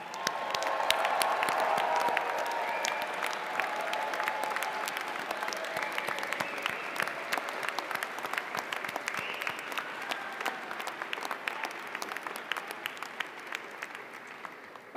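Sustained audience applause at a graduate school diploma ceremony in an auditorium, a dense steady wash of many hands clapping for about fifteen seconds, alone without talk, gradually thinning toward the end.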